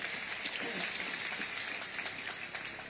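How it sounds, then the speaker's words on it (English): Audience applause at a presidential investors' conference, a steady wash of clapping from a large crowd that stays even and sustained throughout. "Let's give that a round of applause"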